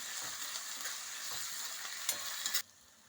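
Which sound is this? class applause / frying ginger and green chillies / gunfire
frying ginger and green chillies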